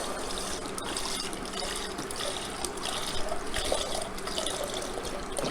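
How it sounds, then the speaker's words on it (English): Steady stream of vegetable broth pouring into a pan, a continuous close liquid splash and trickle without talk. "next we are going to add the vegetable broth"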